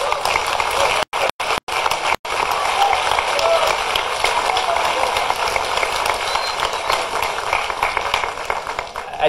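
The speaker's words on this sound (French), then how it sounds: "on peut l'applaudir effectivement" Broad, sustained applause from a crowd at a New Year's greetings ceremony, a steady wash of clapping with a few abrupt brief dropouts near the start, continuing evenly to the end.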